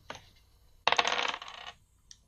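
Three dice tossed onto a table during a Blades in the Dark tabletop roleplaying session: a brief clatter, a pause, then a louder rattling tumble that settles, with one faint final click.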